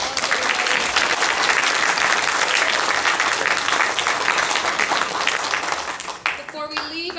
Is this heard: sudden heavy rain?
no